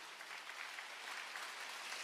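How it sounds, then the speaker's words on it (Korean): A church congregation at a Friday worship service applauds together, a brief, steady burst of many hands clapping with no voices over it. "박수하세요."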